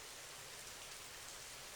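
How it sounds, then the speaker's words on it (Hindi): Heavy rain pours down on a night street in a steady, dense hiss, even and unbroken, with no voices. "और तेज बारिश होने लगती है"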